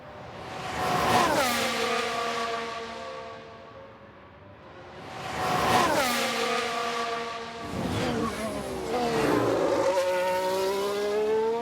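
Formula 1 car on a flying lap in F1 Manager 2022, with an Aston Martin driven by Lance Stroll among the field; high-revving engines scream past three times, each pass dropping sharply in pitch as it recedes.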